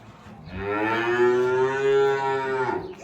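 A single long, loud cow moo rings out close by on a cattle farm where sacrificial livestock are kept, holding steady for about two seconds before trailing off, with no voices over it.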